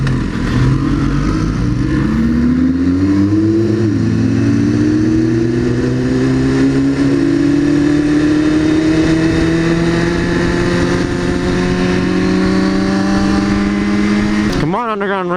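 A 1000 RR sport motorcycle, thought to be pre-2015, accelerating hard in an underground street race in LA, its engine note climbing steadily through a long pull, loud and close, with someone talking over it.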